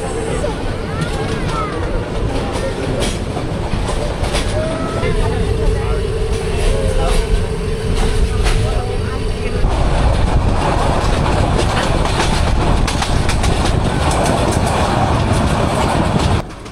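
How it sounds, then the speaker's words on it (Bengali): Upokul Express passenger train rolling on rails after leaving the airport station, a steady low rumble with clatter and a humming drone, swelling louder near the end, with passenger chatter faintly underneath. "আমাদের ট্রেন বিমানবন্দর থেকে ছেড়ে দিল"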